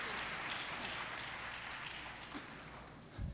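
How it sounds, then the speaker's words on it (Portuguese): Church congregation applauding, a faint, steady wash of clapping that carries on for a few seconds and thins toward the end, with no voices over it. "Você pode aplaudir Jesus por isso?"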